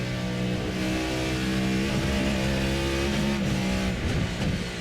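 RSS MP-H Callahan race car in Assetto Corsa held at full throttle in sixth gear, a loud, steady high-pitched engine drone with layered harmonics, sustained throughout with slight pitch wavering and no talk.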